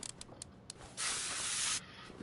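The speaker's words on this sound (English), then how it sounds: "Spray there." A burst of spray applied to car parts during brake work, with the brake drum and a bad cylinder involved, in a PS5 video game: one steady hiss of about a second, with short faint hisses before it.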